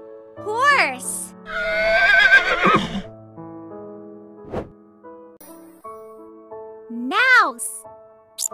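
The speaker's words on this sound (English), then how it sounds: "Horse." A horse neighs and whinnies loudly and close, with a long shaky neigh in the middle and shorter rising calls before and after, a sharp snort between, over a soft background tone.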